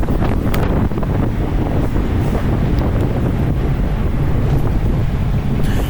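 Strong wind roars and buffets against the microphone during a bike race, a loud, continuous rushing noise with no letup and no voices.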